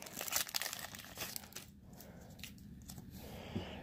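A 2019 Donruss retail trading card pack torn open, a close crinkly rip of foil wrapper in the first second and a half that fades into faint rustling and handling.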